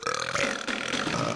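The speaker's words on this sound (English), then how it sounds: "Eructation is the classy word for burp." A comic burp sound effect from the trivia video game You Don't Know Jack: one long, loud, gurgling belch that rumbles steadily for over a second with no talk.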